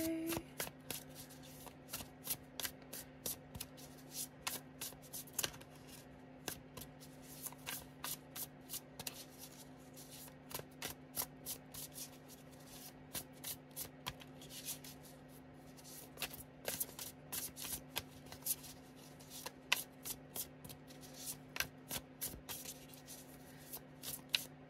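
A tarot deck shuffled repeatedly by hand, with crisp riffling card bursts recurring throughout over a steady low electrical hum, close and fairly quiet, no talking.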